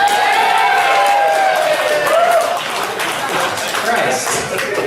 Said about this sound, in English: give a nice round of applause if you never want to hear that joke again.